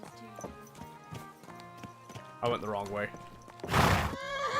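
Rhythmic clip-clop of horse hooves from a video game set in Prague, followed by a sharp, loud horse whinny near the end, with someone speaking briefly over the hoofbeats.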